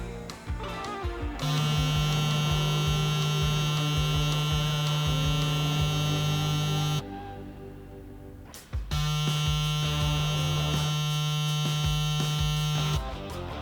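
A steady electric buzz of a Caliber .50 Cal Mag cordless hair clipper with a high-speed magnetic motor runs loudly, stops briefly for a couple of seconds, then starts again with the same constant hum.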